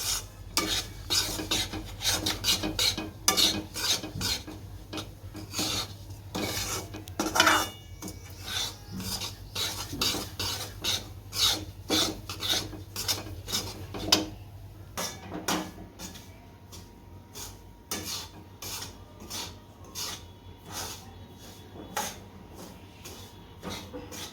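A spoon scrapes and rasps against a pan of semolina in quick, repeated strokes, steady and close, with a dry gritty texture as the stirring continues.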